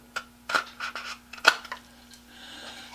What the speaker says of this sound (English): Take my handy dandy adjustment tool here and cut off those corners